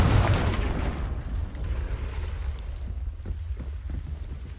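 A Confringo fire spell explodes in the video game Hogwarts Legacy, opening with a loud, deep blast that fades into a low rumbling tail.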